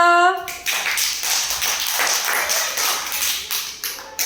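Brief tonal chime at the start, then a run of quick, crisp hand claps in an irregular rhythm, fairly close, with voices mixed underneath.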